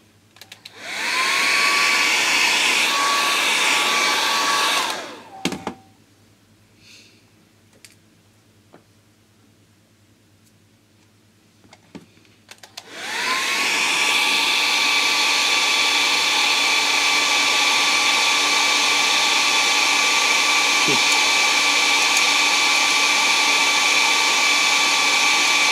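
A homemade wind turbine with thin laminated steel stator plates spins up with a loud, steady whirring whine that rises in pitch. It runs for several seconds, cuts to near silence, then spins up again and holds a sustained drone.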